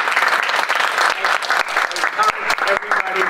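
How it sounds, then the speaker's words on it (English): Audience applause at a community event, a close, lively burst of many people clapping with uneven peaks, while a voice speaks over it near the end. "Just one more round of applause for Frank and Martha and Janelle"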